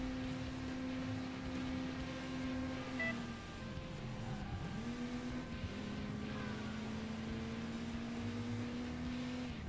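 An engine drones steadily as a car drives and chases another vehicle in the video game Crash Time, pitch dipping and rising again mid-way as it slows and reaccelerates, continuous and fairly close with no talk.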